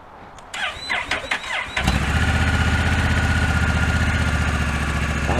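A vehicle engine cranks and catches after a quiet start, then settles into a loud, steady idle that runs close by to the end, with no talk over it.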